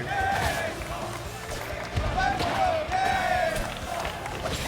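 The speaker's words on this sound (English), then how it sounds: "The crowd is chanting, and I genuinely can't tell who for." Large crowd at an esports tournament for Rivals of Aether II, a dense, loud roar of many voices chanting and cheering continuously, with rising tonal shouts and a commentator talking over it.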